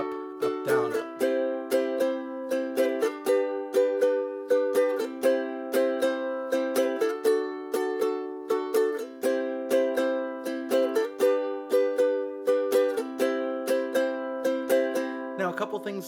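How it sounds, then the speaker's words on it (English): Close ukulele strums in the island pattern, down, down, up, down, up, with muted chucks between chords, repeating steadily for the whole stretch at moderate volume with no talking. "you could play what we call the island strum"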